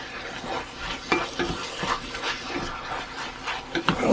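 Ground beef and mushrooms cooking down in a cast iron skillet, with uneven bursts of scraping and stirring over a low sizzle, close and moderately loud.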